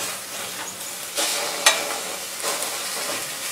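Egg fu yung frying in a pan on fairly high heat, a steady close sizzle broken by a few louder scraping bursts and one sharp clink from a turner.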